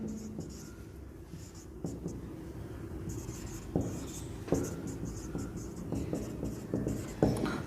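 A teacher writes on a board in a classroom during a science lesson on plant hormones, making scratchy strokes and occasional taps in an irregular rhythm, with faint background noise.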